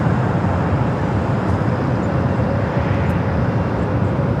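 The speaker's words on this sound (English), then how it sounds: "Singapore 777 heading to Sydney, Australia. Now starting his roll down to 25 right." Singapore Airlines Boeing 777 beginning its takeoff roll on runway 25 right at LAX, a steady broad engine roar with no one talking.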